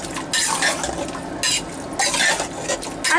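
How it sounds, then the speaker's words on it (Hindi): Steady scraping and stirring in a pan as minced mutton is fried with spices, a soft sizzle underneath, utensil clinks recurring in bursts, close and fairly loud, no talking. "इसे अच्छी तरीके से हम भून लेंगे इन मसालों के साथ।"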